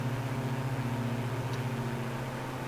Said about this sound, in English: let's go again and get those engines back up.